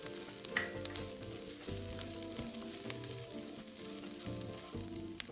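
Garlic cloves sizzle steadily in hot cooking oil with shallot slices already frying, a dense continuous crackle close by with occasional stirring clinks, no voices.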